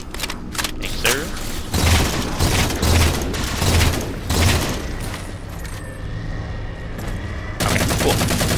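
Battle rifle gunfire in the Halo 4 video game, sustained rapid bursts and layered shots that run for several seconds, with player voices talking over the firing.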